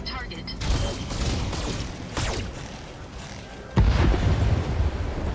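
Heavy weapons fire and blasts tear apart enemy turrets in a video game, a dense rumbling barrage with sweeping whooshes, then a sharp loud explosion near the end followed by sustained roaring impacts.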